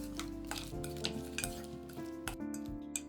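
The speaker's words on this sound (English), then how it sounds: "I mix them with the sauce." Tofu paste sauce being mixed with bitter melon in a bowl, with faint clinks and scrapes of utensils against dishware over a quiet background hum.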